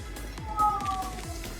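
A house cat named Kisa gives a short, fairly faint meow over a low steady background hum.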